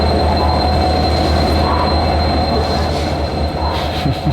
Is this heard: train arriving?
yes